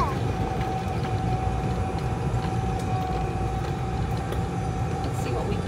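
A golf cart rides along a shaded outdoor path. Its motor and rolling wheels make a continuous, fairly loud rumbling drone that stays even throughout, with no clear pauses.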